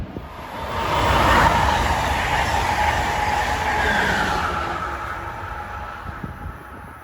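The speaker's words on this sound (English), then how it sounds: "And chasing the Erie Lackawanna is Harrisburg to New York Keystone train number 652." A Harrisburg to New York Keystone train passes on the Northeast Corridor at Linden, New Jersey, its roar swelling quickly, holding with rail clatter, then slowly fading away.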